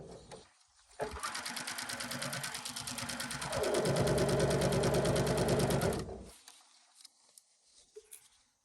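A sewing machine stitches a fabric bucket hat in a long, continuous, close run of about five seconds, its motor speeding up midway before stopping, with faint handling noise afterward.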